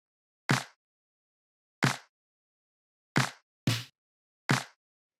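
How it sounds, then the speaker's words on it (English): Five sharp, punchy clap-snare hits with short decays, separated by silence at uneven intervals, two landing close together near the end. "So then the next thing we have here are the claps / snares,"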